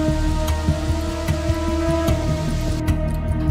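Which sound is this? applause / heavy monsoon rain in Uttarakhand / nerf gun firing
heavy monsoon rain in Uttarakhand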